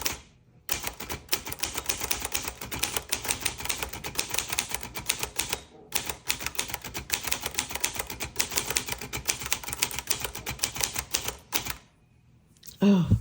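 Steady, rapid keystrokes on a 1963 Olivetti Lettera 22 manual typewriter, close and crisp, broken by a short pause and ending with a carriage-return clunk.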